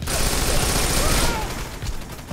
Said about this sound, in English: The SMG is kind of hard to use.